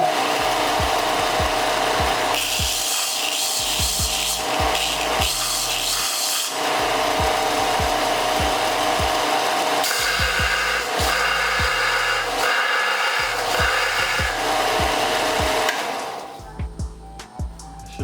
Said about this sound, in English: Back to the old belt sander here. Now this is the point where I'll do it less aggressively.